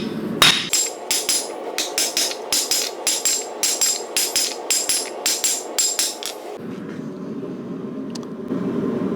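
A power hammer pounding a copper ladle to thin and enlarge it, a rapid run of about twenty sharp metallic blows in steady rhythm, then the hammering stops and leaves a low machine hum.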